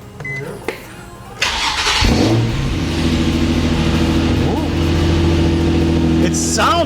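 A Nissan 350Z fitted with a Borla exhaust cranks and fires up, settling into a loud, steady idle that is deeper than stock, with a voice heard over it.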